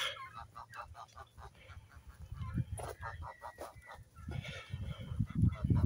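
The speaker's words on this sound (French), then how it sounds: "On a des canards." Domestic ducks in a farm poultry yard honk and quack in repeated bursts, loud and close, with a few overlapping calls toward the end.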